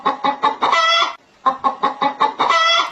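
A pet parrot imitates a rooster crowing, giving a run of loud, close, clucking bursts, a short pause, then a second string of squawking calls that rise into a longer crow-like cry.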